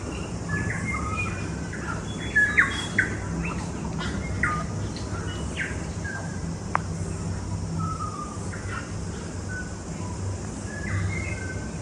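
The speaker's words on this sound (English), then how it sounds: "So many birds." Many birds call in lush New Zealand forest along a trail, with scattered chirps, whistles and squawks at varying distances over a constant soft hiss of background insects and rustle.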